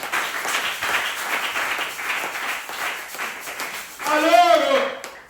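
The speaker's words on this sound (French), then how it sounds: "Applaudissez le Seigneur Jésus." A church congregation at a French-language service claps for Jesus in a steady, even patter that lasts several seconds, moderately loud, before a voice takes over near the end.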